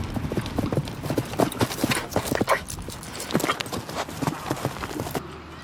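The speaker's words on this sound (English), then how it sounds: "As the horses thunder along the ground" Rapid, heavy hoofbeats of galloping horses pound continuously and loudly close by, with a brief whinny-like sound mixed into the drumming.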